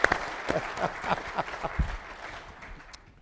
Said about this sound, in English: I didn't think they'd clap on that one.